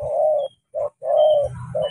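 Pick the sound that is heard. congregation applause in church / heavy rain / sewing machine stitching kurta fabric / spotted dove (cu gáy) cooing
spotted dove (cu gáy) cooing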